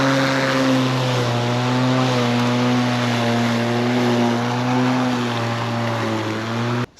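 Battery-powered Litheli EasySurge lawn mower cutting tall grass in overclock mode, its motor holding a loud, steady high-RPM whine with a strong buzzing hum, close and unbroken until it cuts off abruptly at the end.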